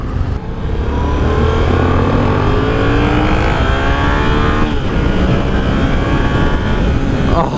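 A Yamaha FZ-07 motorcycle engine revs hard while being ridden, giving a loud, continuous, close roar whose pitch climbs through the gears, with wind rush underneath.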